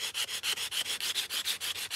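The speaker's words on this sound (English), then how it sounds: "Then you can take sanding block" Rhythmic back-and-forth rasping of a sanding block on a small piece of wood for a miniature table, about seven quick strokes per second, close and even.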